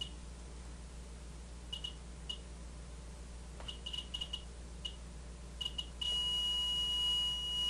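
A radiation detector gives short high beeps in uneven clusters over a steady hiss, then settles into a continuous alarm tone, moderately quiet with no talk, amid Fukushima nuclear monitoring.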